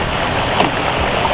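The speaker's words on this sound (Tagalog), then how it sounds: "Medyo malakas ang alon ngayon." Strong sea waves wash around a small drum boat out at sea, a loud, close, continuous churning whoosh of water mixed with wind buffeting the microphone, with no speech.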